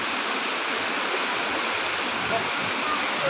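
Spring water from a natural source flowing and splashing in a constant broadband rush, steady and close.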